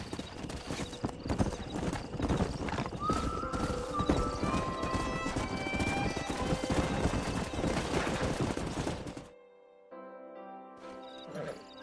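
Horses galloping in Red Dead Redemption, a rapid drumming of hooves with whinnies and neighs rising above, plus scattered gunfire, before the hoofbeats drop away into quieter game sound.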